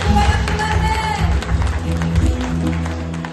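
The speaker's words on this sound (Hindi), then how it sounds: "यीशु के नाम के लिए ताली बजाएंगे।" A church congregation in Mokokchung, Nagaland, claps for Jesus during a worship service, a dense burst of applause mixed with a sustained musical tone and voices, loud and close throughout.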